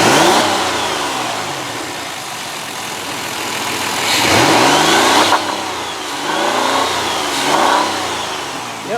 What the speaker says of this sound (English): Let's just rev her up and see how she sounds.